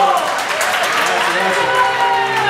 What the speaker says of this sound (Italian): Volevo gli applausi